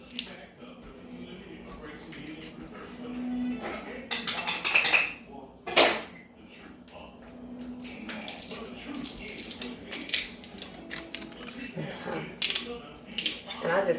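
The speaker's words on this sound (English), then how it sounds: "And give that another stir." Macaroni being stirred in a pot for a soul food meal, with spoon scrapes and clinks against the metal, some sharp knocks, and faint water sloshing, fairly close and moderately loud throughout.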